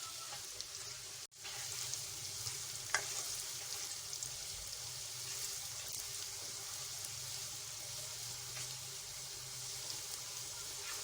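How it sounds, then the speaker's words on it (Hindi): Sliced onions fry in mustard oil in a kadai, browning toward golden in a steady, close, dense sizzle that runs unbroken for the whole stretch apart from one brief dropout early on, with no voices. "इसमें मैंने प्याज डाल दिया। मैं प्याज को गोल्डन ब्राउन करूंगी।"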